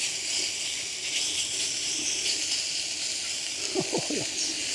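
Beef sizzles in a great big hot pan set on a grate at a rainy campsite, a steady close hiss throughout, with a brief voice near the end.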